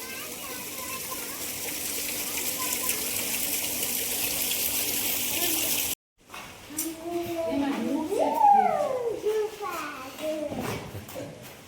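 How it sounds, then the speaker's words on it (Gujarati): An artificial water stream in the Patanjali nursery at Haridwar rushes in a steady, even gush. After an abrupt cut, a voice and other chatter take over while the water continues underneath. "અને અંદર આવા ઝરણા પણ બનાવેલા છે."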